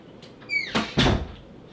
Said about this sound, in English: I gotta close the door